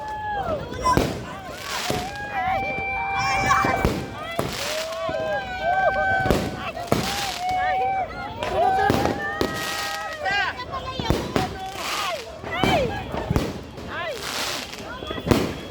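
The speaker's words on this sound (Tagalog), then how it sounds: "Sinusundan ako ng putok!" Fireworks and firecrackers burst repeatedly at New Year, sharp loud bangs and crackles scattered throughout, with whistling rockets rising, under excited shouting and screaming voices.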